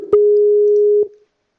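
A single steady electronic tone from a Skype call, loud and close, sounding for just under a second between two short clicks, then fading into silence.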